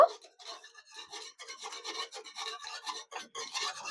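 A spoon stirs 3 to 4 spoonfuls of milk powder into milk boiled down until thick, making soft close scraping and rasping strokes in an irregular rhythm, quiet and with no talk.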